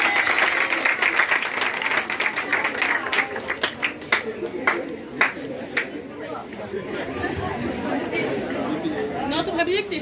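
An audience at a student speech contest claps to welcome a speaker, scattered sharp claps over a steady murmur of chatter that continues throughout.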